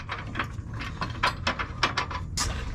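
Ratchet tightening the bolts on a B&W gooseneck turnover ball hitch bracket under a 2022 Ford F250 Super Duty, a series of short close clicking bursts in uneven rhythm with no talking.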